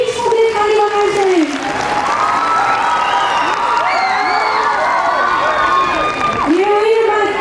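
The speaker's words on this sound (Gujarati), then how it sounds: "ફરી એકવાર જોરથી બધી જ છોકરી તાળી વગાડશે" Girls in the audience at a school annual function clap loudly with excited shouts and cheering, a dense steady roar of sound that fills the middle of the clip, bracketed by a voice speaking at the start and end.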